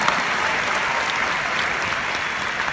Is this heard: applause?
yes